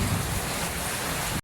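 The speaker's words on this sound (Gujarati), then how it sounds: "કેવો વરસાદ" Heavy rain pours down during a village storm, a loud, steady, dense hiss with a deep rumbling underlayer that lasts about a second and a half before cutting off abruptly, with no voices.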